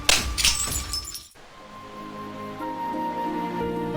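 A glass liquor bottle shatters loudly and close at the start, with bright crashing fragments, before a sudden hush gives way to sustained tonal music.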